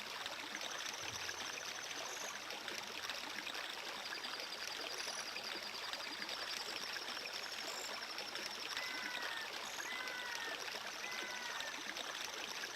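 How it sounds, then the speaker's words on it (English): Steady trickling stream water in the Zelda Ocarina of Time video game, a continuous soft wash running alone throughout with faint bird-like chirps in the background. "This water trickling makes me gotta use the bathroom."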